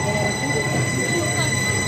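A loud, steady mechanical rumble and whine of a Swiss SBB train idling or moving at a station, filling the whole moment.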